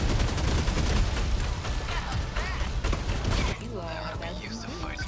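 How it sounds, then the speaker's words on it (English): Missiles fire in a rapid barrage of dense, overlapping bursts and blasts during a mech battle in the video game 13 Sentinels: Aegis Rim, loud and continuous, then dropping to a quieter mechanical rumble near the end. "I want to shoot a bunch of missiles."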